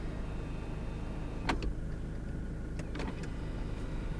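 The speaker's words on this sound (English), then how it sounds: "here's how the front sunroof works." An electric sunroof motor on a 1994 Mitsubishi Delica Space Gear L400 slides the front roof panel open, giving a faint whir under a steady background hum, with a few short mechanical clicks and clunks.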